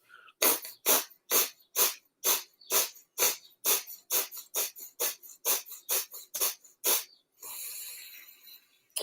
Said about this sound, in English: Kapalabhati is a passive inhale and a forcible exhale.